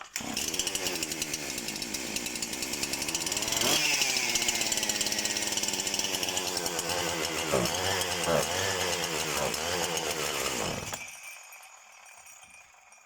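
A Husqvarna 353 chainsaw engine runs loud and steady close by with the choke pulled, its revs rising and dipping a few times, then cuts out abruptly near the end, leaving only faint background hum.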